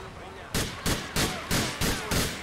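Gunfire in the video game GTA IV: five sharp, evenly spaced shots ring out over a quiet background, each with a brief decaying tail.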